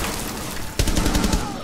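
A short burst of rapid gunfire erupts mid-moment in a Rainbow Six Siege match, several loud close shots cracking in quick succession over game ambience.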